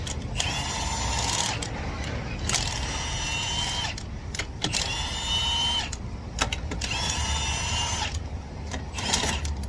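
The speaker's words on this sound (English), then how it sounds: "I'm going to cheat a little bit and use this impact if y'all don't mind." A cordless impact wrench spins lug nuts off a Ford Transit wheel in four or five whirring bursts of about a second each, close and loud, with short pauses and clicks in between.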